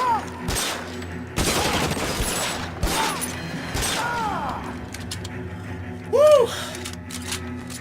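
Gunfire in the L.A. Noire video game: sharp bursts of shots and rapid volleys crack out repeatedly over several seconds, mixed with game sounds and faint voices.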